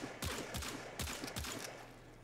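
Rapid pistol shots from the Pandero in the Warframe video game, a quick burst of about eight sharp cracks fired in fast succession at close range with no talk.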